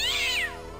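A cat meows once, close and clear, its pitch rising and then sliding down, in the point-and-click game Indiana Jones and the Fate of Atlantis, with a faint low hum of background music underneath.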